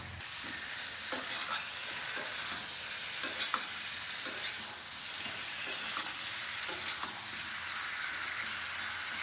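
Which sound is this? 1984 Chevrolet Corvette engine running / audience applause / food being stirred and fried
food being stirred and fried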